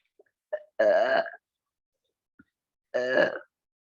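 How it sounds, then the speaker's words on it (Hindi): Burping during a yoga breathing exercise, two clear separate belches about two seconds apart, close and loud in a quiet room, each preceded by soft gulping or breath sounds. "डकार निकालने की कोशिश कीजिए।"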